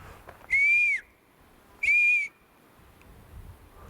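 Two clear, loud whistled notes from a person, each about half a second long and separated by a pause, over faint outdoor background hiss.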